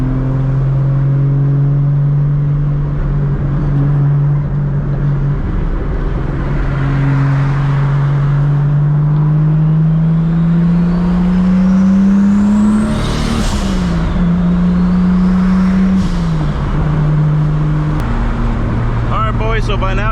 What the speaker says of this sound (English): 700 plus horsepower Supra, big single turbo